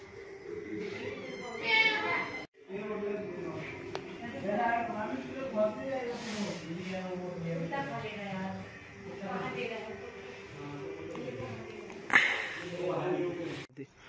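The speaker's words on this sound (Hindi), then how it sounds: "अभी मैं आपको दिखा रहा हूँ व्हाइट वाली बिल्ली" A white pet cat in Uttarakhand meows several times, with drawn-out, wavering cries at moderate distance. Someone talks continuously beneath and between the calls.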